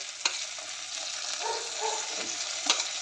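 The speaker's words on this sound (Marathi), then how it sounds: "कांदा चांगला परतून घेऊया त्यानंतर टोमॅटो आणि भेंडी घालते" Onion, tomato and chopped okra sautéing in a pan for besan okra curry: a steady sizzle with a few soft stirring scrapes and one sharp clatter near the start, no talking.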